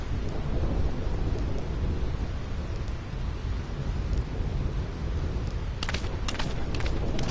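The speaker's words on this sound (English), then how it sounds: "I hate thunder." Thunderstorm in the video game Final Fantasy X HD: steady, loud rain and rumbling storm noise fill the scene throughout, with a few sharp crackling bursts near the end.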